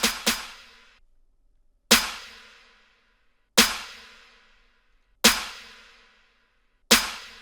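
Sharp sampled clap from the Arcasenia drum kit by Tri-Freeze, struck in a steady repeating pattern: a quick double hit, then single claps about every 1.7 seconds, each with a short bright decay into silence.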